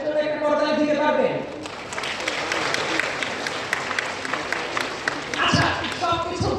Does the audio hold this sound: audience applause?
yes